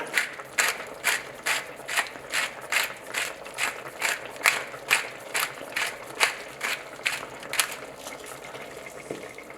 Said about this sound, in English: Start with this, then fresh ground pepper.